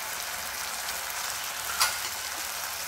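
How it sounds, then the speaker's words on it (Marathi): Kolhapuri-style paneer masala gravy frying in oil with red chilli and spices, giving a steady, close, even sizzle with one brief louder crackle partway through and no talking. "हे सगळं जे मसाला आपले टाकले आहेत ते सगळे एकजीव होऊन चांगले भाजले पाहिजेत तेलात"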